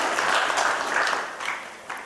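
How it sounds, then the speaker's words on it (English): An audience at the inaugural session of a shipmanning and training summit in India claps in a short burst that fades toward the end. "Big round of applause to all of you"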